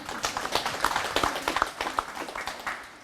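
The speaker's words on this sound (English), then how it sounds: "Please give a round of applause to them." Audience at a high school event giving a round of applause to board members, faculty and staff, a modest, fairly faint patter of clapping from a small crowd.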